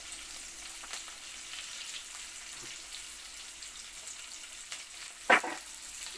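Sliced bitter gourd frying in hot oil gives a faint, steady sizzle, broken by a few soft stirring scrapes and one brief louder spatter near the end.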